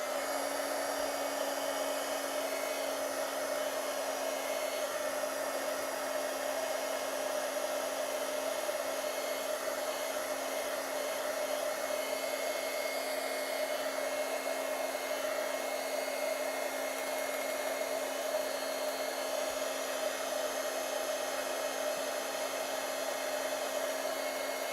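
A hair dryer blows steadily on a watercolor painting for the full stretch, a constant close whirring roar with a clear hum, loud and unbroken with no voices.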